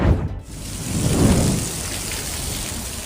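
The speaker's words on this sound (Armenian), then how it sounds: "Նյու Յորքում տեղացած հորդառատ անձրևների եւ հզոր փոթորիկների հետևանքով" Heavy rain pours down during a strong storm in New York, a dense continuous roar of water on surfaces with a low rumbling swell, loud and close, with no voices.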